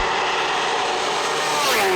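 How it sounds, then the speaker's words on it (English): A 370 horsepower Kawasaki H2R motorcycle roars past at a land speed event at Goudies in New Zealand, loud and steady, then drops in pitch as it passes close by. "Landspeed founder John Seccombe on his 370 horsepower Kawasaki H2R"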